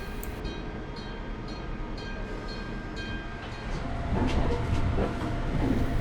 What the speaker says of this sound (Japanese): 私はその反対側の富士山行きの列車に乗車します。